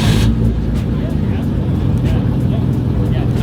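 A Nissan Skyline R32 GT-R fires up at a car meet and settles into a loud, close, deep rumbling idle, with people's voices mixed into the engine noise.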